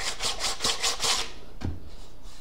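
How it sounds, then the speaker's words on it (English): Quick rhythmic rasping strokes of a file or sandpaper on wood, about six back-and-forth passes close up, then a pause and a faint scrape. "maybe some more little filing here and there, sanding and filing"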